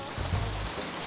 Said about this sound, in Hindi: यहाँ इतनी बरसात हो रही है